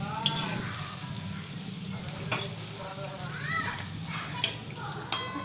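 Chicken pakora coated twice in batter and frying in oil over low heat, a steady soft sizzle running throughout with a few sharp clinks and pops, while a person talks over it.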